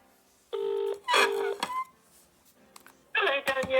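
A telephone keypad is dialled before a call, giving several clear touch-tone beeps in quick bursts, some long and some short, close and loud, with a little talk in between.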